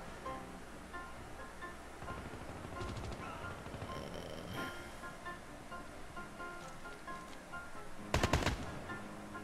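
AK-47 fire in Call of Duty Mobile: rapid bursts of game gunshots over a constant rumbling background, with the loudest burst near the end and no speech.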